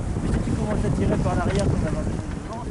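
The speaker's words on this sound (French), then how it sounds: "Le vent souffle toujours autant" Strong wind of force 7 gusting over a sailboat at sea, a loud continuous roar mixed with rushing water and hull noise, with faint voices partly buried beneath it.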